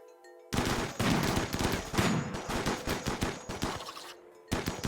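Rapid bursts of gunfire crackle close and loud in the RimWorld video game, overlapping shots packed into a dense volley that breaks off briefly near the end before resuming.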